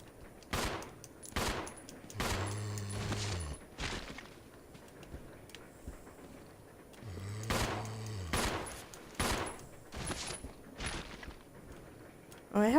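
Gunfire in the survival horror game Resident Evil 0: a series of loud, sharp shots in separate bursts with pauses between, some closely spaced, while a person talks faintly in the background.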